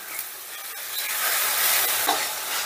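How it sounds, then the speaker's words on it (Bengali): Ginger, garlic and tomato masala sautéing over a high gas flame, a steady close sizzle and hiss with a faint stir scrape, brief and continuous, no voices. "এবারে গ্যাসের আঁচটা বাড়িয়ে দিয়ে আমি সমস্তটা বেশ ভালো করে কষে নেব"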